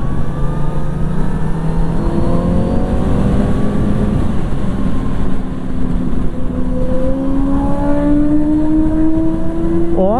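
Kawasaki Z900RS motorcycle ridden at speed around the Interlagos circuit during a track festival, its engine a loud, continuous drone whose pitch climbs steadily as it accelerates, with faint background noise.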